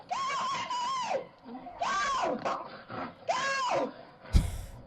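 A woman screams and yells in long, high wails, three drawn-out cries in a row, as a rabid-seeming bobcat chases her and her dog to her front door; a sharp bang closes the sequence.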